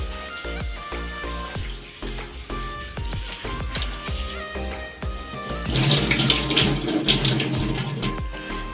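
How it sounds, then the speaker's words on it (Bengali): Urad dal (biuli dal) being rinsed in water in a bowl, with close splashing and swishing that builds to a heavier rush of pouring water near the end. "কলাইয়ের ডালটা 2 থেকে 4 বার ধুতে হবে। দেখো জলটা কেমন কাদা কাদা বেরোচ্ছে।"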